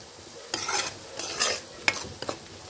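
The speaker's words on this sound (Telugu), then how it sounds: "ఇప్పుడు గుడ్లు వేసేసుకున్నాం. గుడ్లు కూడా 2 నిమిషాలు వేగనిచ్చుకోవాలి" Eggs fry with chili powder in a pan, with several short bursts of sizzling and scraping as they are stirred, close up and fairly quiet between strokes, no voices.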